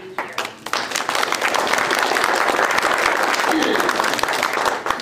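An audience at a club luncheon talk breaks into a dense, steady round of clapping that fills the room for several seconds, with a voice speaking briefly over the start.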